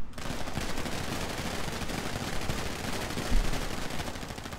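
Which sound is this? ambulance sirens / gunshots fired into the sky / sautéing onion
gunshots fired into the sky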